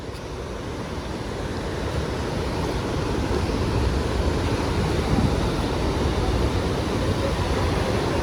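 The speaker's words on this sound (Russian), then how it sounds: "Волна сегодня просто огромная." Big ocean waves breaking along the Tenerife coast make a steady, loud, broadband roar of surf that holds for the whole stretch, with wind rush mixed in and no voices.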